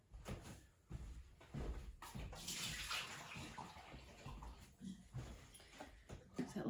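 Water runs and splashes as a baking dish is rinsed at a kitchen sink, the flow starting and stopping in several bursts with a clattering of the dish in between.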